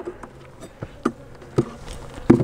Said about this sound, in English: So these bees in this fondant may be robbers.